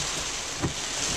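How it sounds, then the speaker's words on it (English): Heavy rain pouring down at a beach, a dense steady hiss with wind buffeting the microphone and one brief louder gust or splash midway. "It's pouring now."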